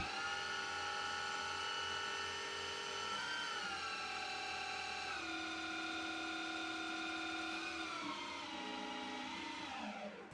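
A rotary lathe cuts a taper slightly deeper into a metal part, a sustained machine tone whose pitch steps down a few times as the cut loads it, steady and close before winding down at the end.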